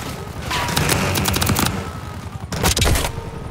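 Loud, close gunfire in a Call of Duty Black Ops 6 match: rapid overlapping automatic bursts and fusillades that run almost continuously, with denser volleys near the start and again toward the end.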